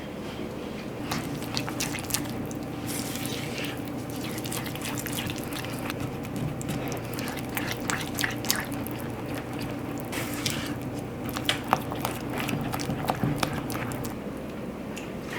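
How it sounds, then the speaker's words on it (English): A spatula stirs honey and coconut sugar into a thick, sticky caramel-like mixture for a gluten-free coconut oat cake, giving soft squishing, dripping and scraping sounds that run steadily throughout, close up with no talking. "And I'm just going to mix this with my spatula."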